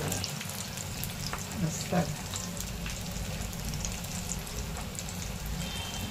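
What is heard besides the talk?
pea cutlets frying in oil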